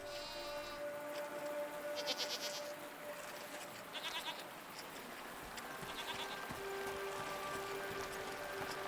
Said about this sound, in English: What are these strange goat-like creatures?